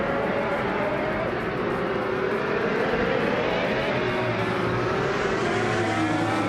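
Race cars in a racing video game whine at full speed, their overlapping engine tones sweeping up and down in a loud, unbroken roar.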